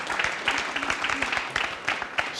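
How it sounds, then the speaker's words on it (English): Polite applause from a snooker audience at the 2016 Champion of Champions, a brief, moderately loud patter of clapping hands that stays steady and fills the short moment alone. "Sympathetic applause"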